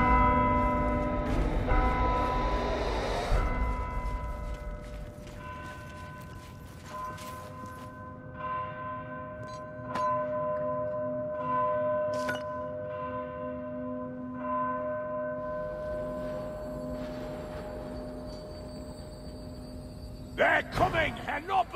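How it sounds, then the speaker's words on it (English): A struck bell in a fantasy video game rings out with long sustained harmonic tones that decay slowly, a second strike sounding near the end, over music and background ambience. "Strike the bell and let's begin."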